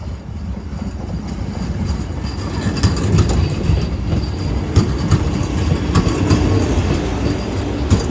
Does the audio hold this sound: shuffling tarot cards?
no